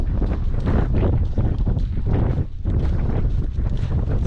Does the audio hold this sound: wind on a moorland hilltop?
yes